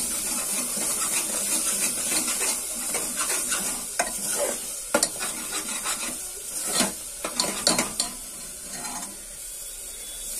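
Spices and salt are stirred in a hot pan for black masoor dal, a spoon scraping and rubbing against metal over a faint sizzle, with occasional sharper clinks.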